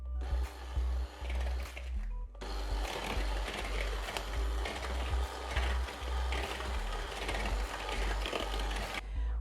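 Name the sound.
whisking butter and sugar together in a bowl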